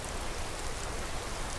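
Steady rainfall in the video game Skyrim, a dense, even hiss of drops on surfaces that holds constant throughout with no voices.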